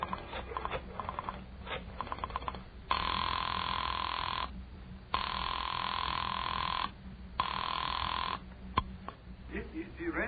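Telephone ringing down the line after a number has been dialed, three long repeated rings with pauses between them, heard through a narrow phone-like band, with clicks and faint shuffling around the rings.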